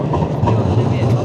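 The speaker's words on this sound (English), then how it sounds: "Tram is coming." A city tram rolls in close by, a loud steady low rumble with faint rhythmic rail clatter throughout the short stretch.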